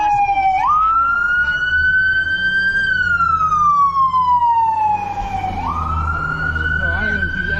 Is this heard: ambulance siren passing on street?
yes